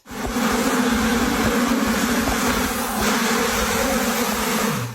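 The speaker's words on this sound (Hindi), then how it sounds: "क्या आप इतनी सारी मधुमक्खियों के बीच शहद निकालने की हिम्मत करोगे?" A dense swarm of honey bees drones loudly and continuously around a honey harvest, a thick close-up buzz with no talking over it.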